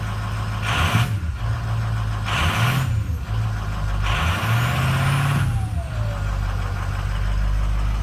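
A 2005 Ford Excursion's 6.0-liter Power Stroke diesel engine idles with a low steady rumble, broken by several loud bursts of air hiss at irregular intervals.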